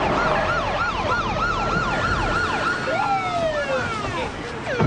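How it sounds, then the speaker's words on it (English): Loud wailing sirens sweep up and down in rapid cycles, several overlapping, with road noise beneath. "Maybe you get the sirens turned up"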